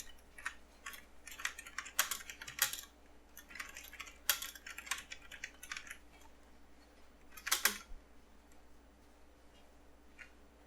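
Bursts of computer keyboard typing while C code is entered in a program, quick irregular clusters of clicks with short pauses, close and fairly quiet, with no talking.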